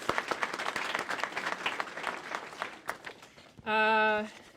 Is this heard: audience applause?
yes